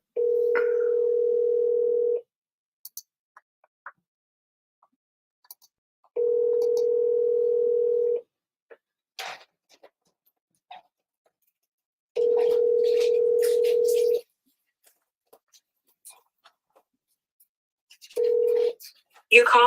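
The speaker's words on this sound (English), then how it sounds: "Let's see what happens when I call her" Outgoing phone call ringing back, three long even ringback tones spaced by silence, then a fourth cut short, with faint sounds and brief speech in the gaps.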